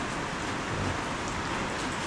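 Steady rain falls outdoors as an even, continuous hiss of drops on surfaces, moderately loud and unbroken for a couple of seconds with no voices.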